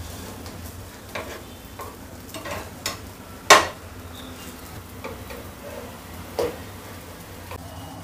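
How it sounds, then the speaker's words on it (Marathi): Healthy snacks shallow fry in a pan with a faint, low sizzle, broken by a few distinct clicks and taps of a utensil, one sharper knock standing out, with no voices. "हे पहा आपले शॅलो फ्राय कसे होत आहेत"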